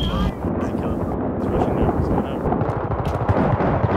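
Gunfire in Battlefield 3 on the Grand Bazaar map crackles through a dense, roaring battle din, with sharp shots scattered over a constant wash of noise.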